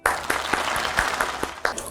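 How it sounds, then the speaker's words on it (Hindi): A church audience applauds to welcome a bishop onto the stage. The clapping is dense and continuous, at moderate loudness, with distinct louder claps popping out through the wash of sound and no voices. "आपकी तालियों में तशरीफ लाते हैं बिशप जोनाथन रहमत।"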